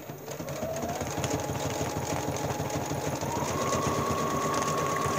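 A sewing machine runs at increased speed while stitching plastic vinyl, giving a fast, even mechanical chatter with a steady hum underneath that rises slightly in pitch partway through, close and continuous with no talking.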